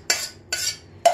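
A utensil stirs lemon juice into a mashed lentil meze, three scraping strokes against the bowl with short pauses between, close and clear with no talking.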